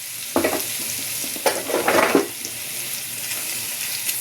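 Mashed potato stuffing is stirred together with black pepper and Kashmiri chilli powder, a few soft scraping strokes in a pan over a faint background hiss, close and alone without talk.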